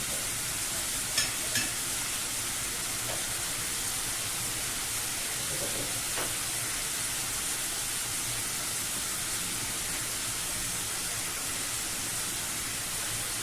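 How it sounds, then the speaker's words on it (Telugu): Okra and tomato gravy curry fries in a pan, giving a constant close sizzling hiss with a couple of faint clinks near the start and no speech. "ఇట్లా వేగనండి కర్రీని"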